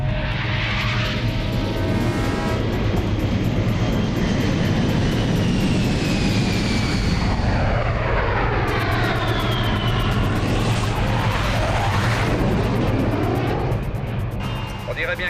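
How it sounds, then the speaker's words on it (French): An aircraft taking off, its engine roaring loud and steady throughout as it climbs past, with a rising and falling whine, while voices talk over it. "Il vient juste de décoller."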